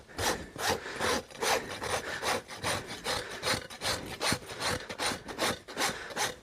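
A sharp rasp files a horse's hoof in quick, rhythmic back-and-forth strokes, each stroke a close, gritty scrape repeating steadily throughout.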